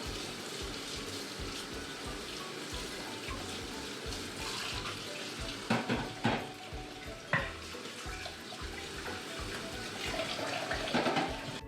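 Running water from a kitchen tap pours steadily as eggs are washed under it, a continuous hiss with occasional clunks and splashes from handling, moderately close and with no talk.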